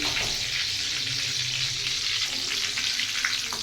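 Tomato bajji fritters fry in hot oil, giving a steady, bright sizzle that stays loud and even for several seconds.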